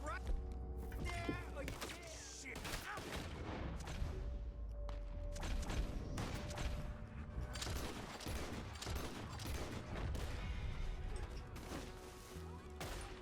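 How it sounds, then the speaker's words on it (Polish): Rapid gunfire in Red Dead Redemption 2, dense volleys of sharp shots and bursts crackling throughout over a low rumble, with someone talking over the shooting. "Czemu we mnie strzelasz?"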